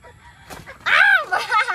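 Native chickens on a farm give a few loud honking clucks and squawks close by, starting faintly and then rising into a strong call.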